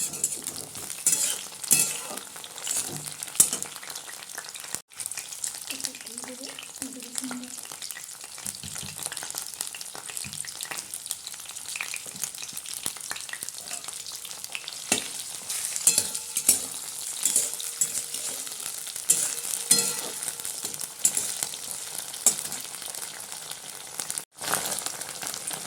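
Chopped tomato frying with browned onions, bay leaf and dried chilli in oil in a pan, a continuous close sizzle with frequent spatula stirs and scrapes and an occasional light metal clink.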